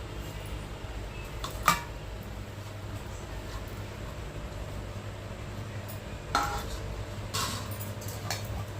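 Chicken pieces for chicken lollipop tossed with masala in a bowl, heard as faint intermittent clinks and scrapes of a utensil against the bowl, two sharper knocks standing out over a low steady background hum.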